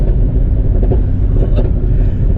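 A Mercedes ML63 AMG engine roars under hard acceleration, a loud, deep, sustained rumble heard close up from inside the car with no talking.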